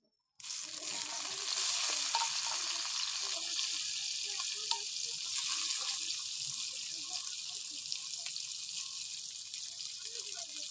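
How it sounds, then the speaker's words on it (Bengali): Chopped onions dropped into hot oil, setting off a sudden loud hiss that settles into a steady broad sizzle with faint stirring scrapes, close by. "তেল দিয়ে দিলাম দিয়ে দেবো পেঁয়াজ কুচিগুলো"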